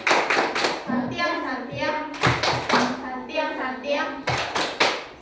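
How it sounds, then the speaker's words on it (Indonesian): A primary-school class in an Indonesian science lesson does a rhythmic clap chant, sharp bursts of group clapping alternating with children chanting the words together, repeating in three rounds. "beri tepuk santiang ke kelompok 2"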